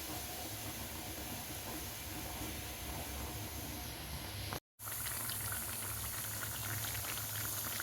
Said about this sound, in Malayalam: നന്നായി തിളച്ച വെള്ളം ഒന്ന് കുറുകി വരട്ടെ.